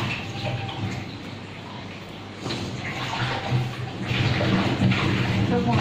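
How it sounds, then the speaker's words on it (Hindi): Water is poured into a breakfast mixture in a home kitchen, a close, continuous splashing stream that swells louder toward the end, with a voice faintly underneath. "थोड़ा सा पानी आपने इसमें डालना है"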